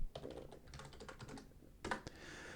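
Keys clatter on a computer keyboard as code is typed in GameMaker, a quick irregular run of close, crisp clicks followed by a short faster burst, with no talking.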